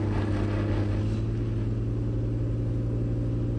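Porsche Cayenne fitted with all-terrain tyres on an off-road slope, engine held at full throttle while climbing: a loud, steady low rumbling drone with a constant pulsing throb, close and unbroken throughout.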